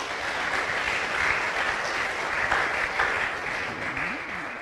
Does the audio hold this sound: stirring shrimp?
no